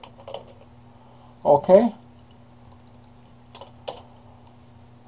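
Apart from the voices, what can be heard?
typing on a computer keyboard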